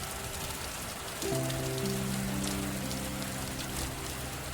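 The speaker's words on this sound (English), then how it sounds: "The rain had been falling for hours, pattering softly against the glass lobby doors of the Whitmore Plaza building." Rain patters steadily against the glass lobby doors of an office building, a soft continuous hiss of drops with a faint low tone rising partway through.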